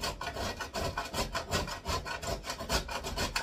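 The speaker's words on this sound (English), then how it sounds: "And we're going to grate it" Block of solidified coconut oil and methylcellulose fat scraped across a grater, a close, soft rhythmic rasping in quick repeated strokes, about four per second, with no voices.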